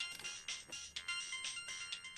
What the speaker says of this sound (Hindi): किसका फोन है? तुम्हारा फोन उठाओ ना यार।